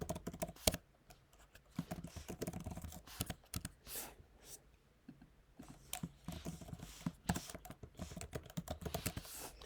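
Typing customer details into an appointment booking system, with a keyboard clicking in quick, irregular bursts that pause briefly and then resume, close up and fairly quiet, with no talking.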